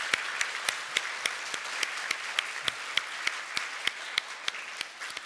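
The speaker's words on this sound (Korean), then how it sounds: "큰 축복의 박수로 한번." A church congregation applauds to welcome a couple during a Sunday service, a steady wash of many hands clapping at moderate distance, with individual sharper claps standing out throughout.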